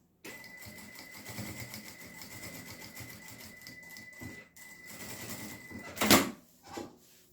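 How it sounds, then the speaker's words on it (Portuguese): A sewing machine runs a topstitch along a fabric edge, a steady mechanical whir for several seconds that stops, then a few louder clunks. "E vou fazer uma costurinha de pesponto bem aqui na borda."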